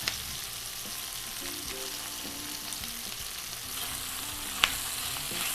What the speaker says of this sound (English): Also add the crushed garlic.